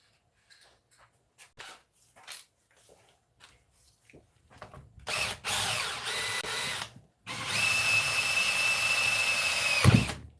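A power drill whirs in two long bursts on an RC rally car, the second steady and high-pitched, after a stretch of scattered clicks and handling noises.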